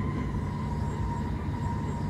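An ICNG train running in Train Simulator 2022, a steady, loud rumble of wheels and motor with a constant tonal whine, unbroken throughout, no talk.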